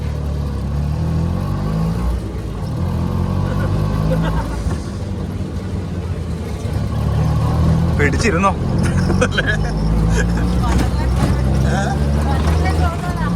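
An auto-rickshaw engine drones steadily while riding, a loud, continuous low rumble that swells slightly midway, with people talking over it.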